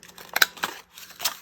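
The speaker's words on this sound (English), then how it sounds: "And you can just do that with scissors" Scissors snip through a thin book-page paper flap, several short crisp cuts in an irregular rhythm, close and quiet with no talking.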